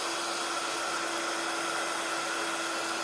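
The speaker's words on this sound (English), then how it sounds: "I'm going to use my heat gun to dry this off." A heat gun blows steadily on a wet card to dry it, a constant close whooshing hum with a faint whine that holds even for a few seconds.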